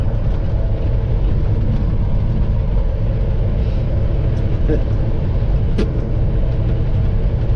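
Peterbilt 389 truck climbing toward the crest of a highway hill at about 49 mph, a loud, steady low engine drone with constant road rumble heard from inside the cab.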